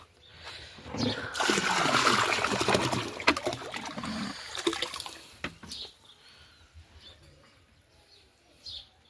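Water gushes into a tank at home in a burst of loud splashing that lasts a few seconds, then thins into quieter trickles and scattered drips. There is faint background chatter.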